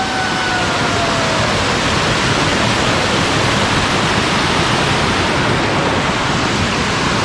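A waterfall, discovered while out exploring, roars as a loud, steady, continuous rush of falling water that holds unchanged throughout, with no voices over it.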